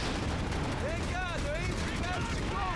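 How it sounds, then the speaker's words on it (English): Paratroopers fire guns in the World War II strategy game Company of Heroes 3, a dense crackle of gunfire with whistling ricochet-like tones over steady battle noise. "With the paratroopers firing on them as well."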